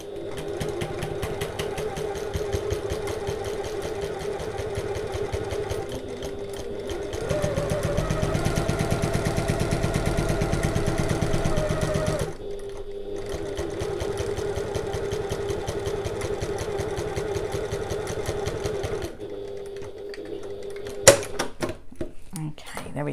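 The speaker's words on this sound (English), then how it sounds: "we're going to back stitch at the start and the end" Sewing machine stitching the seam of an oval fabric bag with back stitching at the start and end, a steady mechanical hum running through most of the clip, speeding up midway, then stopping near the end.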